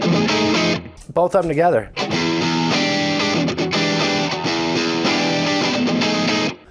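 Electric guitar played through the hotter side of a King of Drive overdrive pedal into an Orange TH30 amp, loud sustained distorted chords with a brief break where someone speaks.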